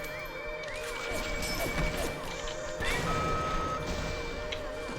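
In the video game Bioshock, an alarm sounds as steady repeated electronic tones running through the whole stretch, mixed with game clatter and thuds, moderately loud.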